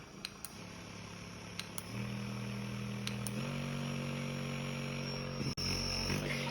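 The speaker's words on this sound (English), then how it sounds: "To power on this massage gun, all you have to do is long press the button on the bottom to turn it on." Zyllion ZMA-35 pocket-sized massage gun running alone with a steady motor whine and buzz that steps up in pitch through several intensity levels, with a few faint clicks from the button between changes.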